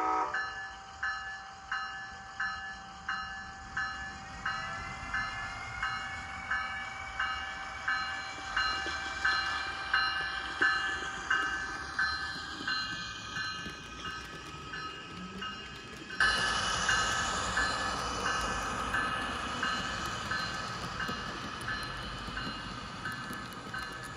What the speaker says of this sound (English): some running shots of the SC-44 with the only Amtrak rolling stock I have available at the moment